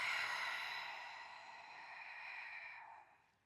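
One long, forceful breath pushed out through the mouth during a hypopressive abdominal exercise, a close, airy whoosh that slowly fades over about three seconds.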